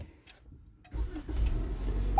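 A 2019-2020 Toyota RAV4 starting up, quiet at first with a faint click, then the engine catches and settles into a steady low idle hum, close and moderately loud.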